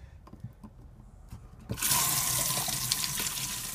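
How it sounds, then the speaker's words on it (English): After a couple of faint knocks, cold water suddenly rushes on and keeps flowing steadily, a loud hissing stream through an RV camper shower's plumbing. "But you can hear the water running through the pipes."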